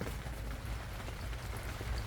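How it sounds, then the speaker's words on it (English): Steady rain pours through a large hole in a roof, hissing and pattering continuously at a soft, even level with no pauses. "you can see the sky coming through and all the rain coming right in"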